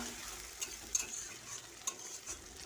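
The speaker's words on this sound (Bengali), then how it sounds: "পেঁয়াজগুলোকে ভালো করে ভেজে নেব" Onions fry gently in oil with whole garam masala (cinnamon, cardamom, cloves, nutmeg, bay leaf and dried chillies), giving a faint, soft sizzle broken by a few light clicks of a spoon against the pan.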